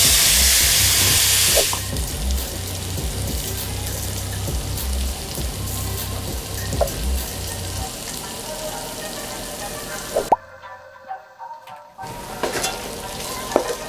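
Shrimp hit a hot pan and sizzle loudly, settling into a steady frying hiss with occasional scrapes and clicks of stirring, broken by a brief near-silent gap before the sizzle resumes.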